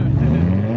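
A Toyota Supra sports car engine holds a loud, steady low rumble at close range for under a second, with a faint hint of voices around it.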